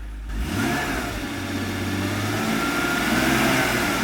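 BMW E46 engine running after a clutch replacement, starting up abruptly then holding a steady mid-pitched hum and drone as the car creeps forward, moderately loud and close, with no talking.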